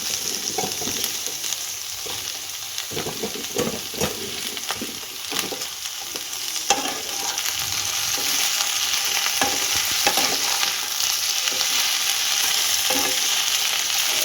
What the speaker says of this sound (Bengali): আমার এগুলো ভাজা ভাজা হয়ে গেছে। এরপর আমি পেঁয়াজ শাকগুলো দিয়ে দিচ্ছি।